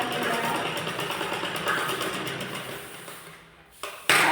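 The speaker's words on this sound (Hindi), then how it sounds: "दोनों साइड हमें इस तरह से सिलाई करके लगाना है।" A sewing machine stitching the side panels of a blouse, a steady close whirring hum with faint rhythmic pulses that fades near the end before a brief clatter.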